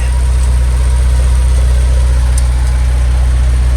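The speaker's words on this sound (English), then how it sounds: "This is after the muffler weld. So, I don't know, you tell me. It's pretty quiet." Jeep Cherokee exhaust idling steadily after a muffler weld repair, heard up close from underneath: a loud, even low rumble with a smooth, continuous throb and no puffing.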